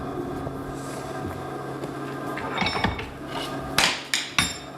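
Hammer blows bending a hot steel bar over at a vise in a forge shop: a low steady hum, then a few sharp ringing strikes clustered near the end.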